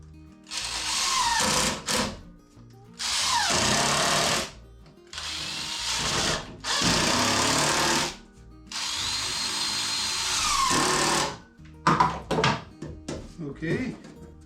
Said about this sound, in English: We'll put some screws in it.